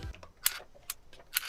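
A vintage 1950s-60s camera shutter is fired a few times, giving close, quiet mechanical clicks with a soft airy whir at irregular intervals and no voices.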